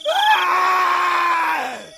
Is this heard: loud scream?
yes